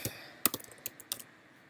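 Client names are typed on a computer keyboard as a short, irregular burst of crisp key clicks, close and fairly quiet, with small gaps between taps.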